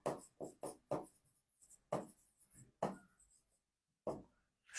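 Handwriting during a lecture: a pen or chalk strikes out short, firm strokes in quick bursts with brief pauses between them, close and fairly quiet, with no voice over it.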